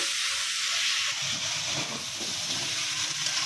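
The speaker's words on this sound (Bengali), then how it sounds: "এখন আমি সবজিটা দিয়ে দিব" Eggplant and other vegetables go into spice paste already frying in a pan for an eggplant and hilsa fish curry, giving a loud, steady sizzling hiss that lasts the whole time, close by and with no talk.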